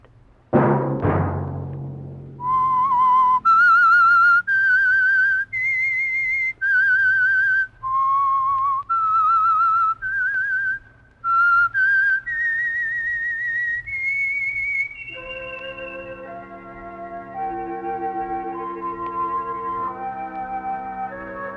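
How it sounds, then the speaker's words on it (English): A lone, clear melodic whistle plays the eerie theme of The Whistler radio show, a slow tune of sustained notes with short pauses, then fades into soft orchestral music. "Let that whistle be your signal for the Signal Oil program, The Whistler"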